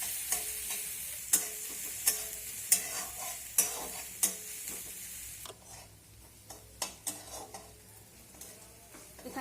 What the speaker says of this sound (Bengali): এবার কাঁচা লঙ্কা আর পেঁয়াজটাকে একটু সোনালি কালার করে ভেজে নেব।